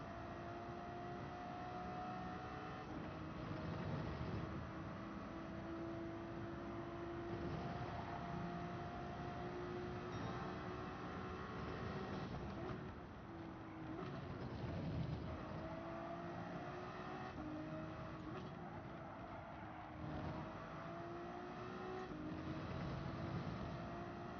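Racing engine of a BMW race car in Gran Turismo 7 at Laguna Seca, a steady droning whine that rises and falls with gear shifts and throttle, continuous and loud throughout.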